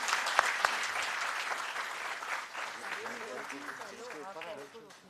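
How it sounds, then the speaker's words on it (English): Audience applause at a seminar on hazmat compliance and port operations, a dense wash of many hands clapping that stays steady and fairly loud, with voices talking underneath as it tapers off toward the end. "So I think they deserve a big round of applause from all of us."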